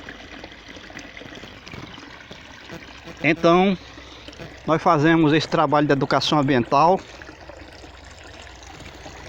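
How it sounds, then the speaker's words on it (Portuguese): Water rushes in a constant, steady roar throughout as a reservoir overflows through its spillway, while someone talks over it. "Escute o som da cachoeira."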